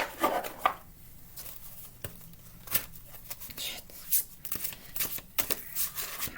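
A deck of reading cards is shuffled by hand at a pick-a-pile reading, giving soft, irregular riffles, slaps and taps, quiet and close, with faint whispery breaths between them.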